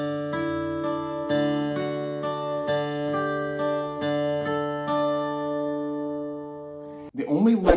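A guitar plays the lick from a song, ringing picked notes over sustained chord tones in a steady rhythm, clean and close, ending with a brief voice at the close.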